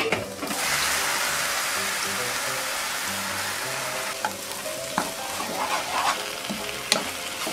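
Ivy gourd leaves stir-frying in a hot pan give a loud, steady sizzle with occasional clinks and scrapes of a utensil stirring.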